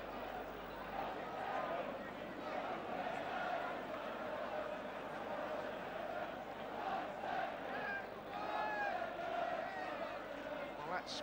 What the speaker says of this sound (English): That's brought the crowd to life.